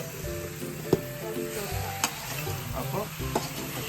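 Lime pickle in Kerala style being stirred with pickle powder, chili powder, salt and garlic, a few distinct close scrapes and taps over a soft hiss, with faint tonal background sound.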